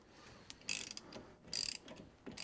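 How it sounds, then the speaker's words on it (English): A ratcheting box end wrench clicks in three quick bursts of close, crisp ratchet pawl ticking during work on leaf springs, with brief pauses between strokes. "I sure like my ratcheting"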